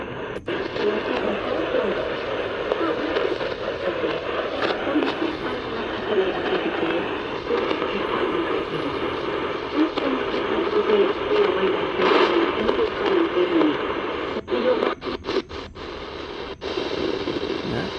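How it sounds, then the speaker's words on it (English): A continuous shortwave broadcast signal between 13 and 14 MHz through steady radio static, with faint voice-like content and occasional brief dropouts near the end. "Okay, sounds like a broadcast."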